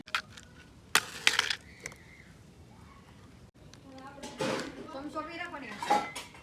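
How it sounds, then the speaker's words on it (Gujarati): A metal cooking pot is handled and set onto a stove, with a few sharp clanks and clinks near the start and a voice speaking in the latter half. "તપેલી આપણે છે ને તપેલીને ચડાવી દઈએ"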